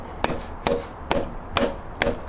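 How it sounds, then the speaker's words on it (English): Five evenly spaced dull knocks, close by, a soft-faced hammer tapping a Triumph Spitfire cylinder head, each a short thud with a little ring. "Soft faced hammer."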